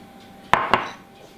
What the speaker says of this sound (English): Scrape it all out.